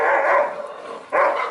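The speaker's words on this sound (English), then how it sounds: "Oh no, they came in contact with the neighbor dogs." Dogs bark at neighboring dogs, with two loud, close barks about a second apart.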